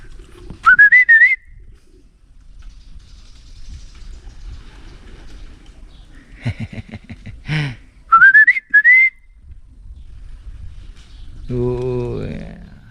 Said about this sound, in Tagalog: Alam na alam nila yung sipol ko ah.